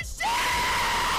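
A loud, sustained scream with a steady pitch cuts in abruptly after a brief quieter moment, heard during a Fortnite fail and holding strong for about a second.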